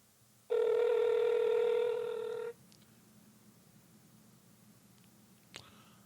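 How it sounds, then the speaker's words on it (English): A telephone line rings once with a steady two-second electronic tone over a faint background hum, followed by quiet and a small click. "Don't text me. Answer the phone."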